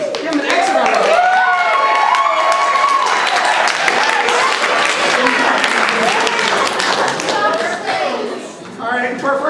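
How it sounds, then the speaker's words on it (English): Applause from an improv comedy show audience welcoming a first-time host, dense clapping sustained throughout with crowd noise and cheering voices mixed in, easing slightly at the end. "please give him an extra round of applause"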